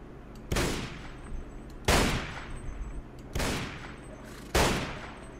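Four heavy gunshot bursts in a Mount & Blade: Warband mod, Red Wars, each a loud crack with a decaying tail, spaced roughly a second and a half apart, with no talk.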